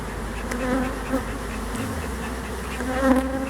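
Angry honey bees swarm around a hive in a dense, continuous, loud buzz, close by and rising slightly near the end, with no voices.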